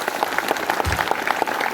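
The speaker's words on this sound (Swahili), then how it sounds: "Amwihũrĩrai makofi." A gathering of people applauds with brisk, fairly close clapping, dense and continuous, with individual hand claps standing out in an uneven rhythm throughout the short burst.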